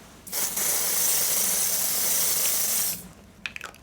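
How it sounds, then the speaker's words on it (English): A single long hiss of fine mist sprayed from a Dior Air Flash Radiance Mist facial spray bottle, lasting a few seconds up close, followed by faint clicks. "bust out my Dior Air Flash Radiance Mist and do a quick little"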